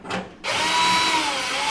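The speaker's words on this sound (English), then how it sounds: "make sure you set your torque setting on your drill to a lighter setting" A power drill set to low torque drives screws into a Jenn-Air cooktop, a brief whir followed by a sustained, loud close-up motor drone.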